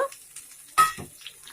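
Onions and tomatoes go into a hot pan together and fry, a short burst of sizzle and stirring rising sharply partway through, then settling into a quieter fry.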